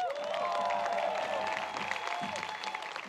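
A comedy roast audience at a political roast event claps and cheers loudly, a dense sustained wash of applause with whistles and shouts that holds steady and eases slightly near the end.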